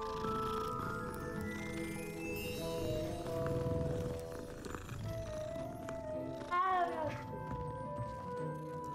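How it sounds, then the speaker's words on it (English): A cat in the video game Hogwarts Legacy gives a faint, odd-sounding meow over quiet in-game ambience and background music, with one clearer meow near the end. "the meowing sound they're doing though is a little bit of a weird one"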